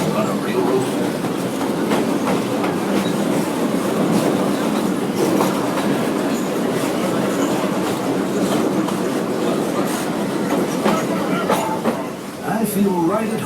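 Disney park railroad train riding along its tracks, a continuous loud rumble with rhythmic clickety-clack of wheels over rail joints and occasional faint squeals, narration faintly mixed in.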